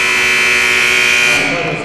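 A basketball game-ending buzzer at an LIU Sharks versus UMass Lowell college game sounds as one loud, steady, continuous electronic tone sustained through the clip, with crowd and commentary underneath.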